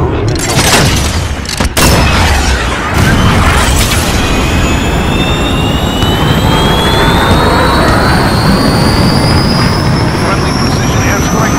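Jet aircraft roar past overhead for supply drops in Call of Duty Modern Warfare, a loud sweeping engine whine with rising and falling tones, preceded by sharp booms and bursts of gunfire.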